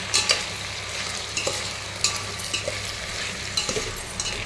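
Dal being stirred in a pot for sambar, a steady bubbling sizzle broken by repeated scraping and knocking strokes of a spoon, close and alone with no talk.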